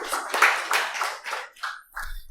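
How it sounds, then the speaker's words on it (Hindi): A small gathering at a devotional talk claps hands in a few short, uneven bursts, loose rhythmic clapping that fades and trails into a quieter patter. "ताली बजाओ सब"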